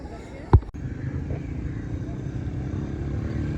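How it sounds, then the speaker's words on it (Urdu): Motorcycles ride through a river in flood on the Jhelum, heard as a steady low engine rumble with a brief loud thump near the start, set against outdoor background noise. "دریا کے اندر موٹر سائیکل چل رہے ہیں"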